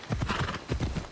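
Horse hooves galloping in Assassin's Creed Odyssey, a rapid, rhythmic clip-clop of repeated beats heard up close and loud, with no talk.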